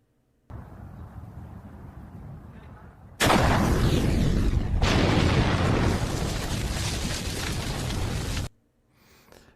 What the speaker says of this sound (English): let's just watch a chicken fire a bazooka into a KFC store